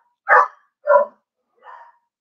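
A dog barks three times at a home craft table, two loud, sharp barks about half a second apart followed by a softer third, with silence between them and no talk.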